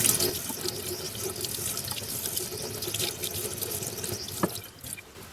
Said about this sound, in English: all you're doing is rinsing this thing out so that all of this, basically once the water starts running clear